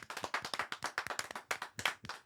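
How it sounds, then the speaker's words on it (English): A small group claps during a podcast recording. The individual hand claps are distinct, quick and fairly quiet, with no voices. "Can we get a round of applause, please?"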